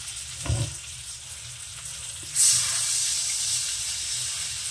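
Live tangra fish with turmeric lightly frying in oil: a quiet sizzle with a brief clatter early on, then a sharp hiss that flares up and settles into a steady, bubbling fry.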